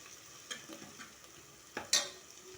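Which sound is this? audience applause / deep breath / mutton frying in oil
mutton frying in oil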